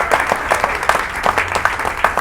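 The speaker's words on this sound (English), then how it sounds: "Give a round of applause for the stage." A crowd applauding at a stand-up comedy show in a food court, steady clapping with a few sharper claps standing out, fairly close and continuous throughout.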